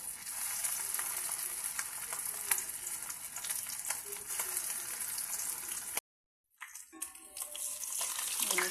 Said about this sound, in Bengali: ভেজে নিচ্ছি বড়াগুলি